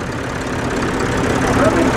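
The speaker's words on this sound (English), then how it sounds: "From Gavin Struthers at Dumbarton, a 1953 Ferguson PEF, 2-litre engine" A 1953 Ferguson PEF tractor with a 2-litre engine runs steadily at a vintage tractor rally, a continuous low rumbling drone that stays fairly loud throughout, with outdoor crowd noise and faint voices mixed underneath.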